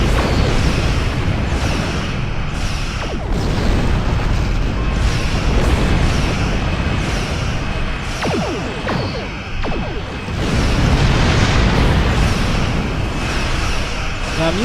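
Starship weapons fire in Star Trek Online during a space battle against the Gorn: loud, dense booming blasts and whooshing bursts repeat over a constant roar, with short zipping beams.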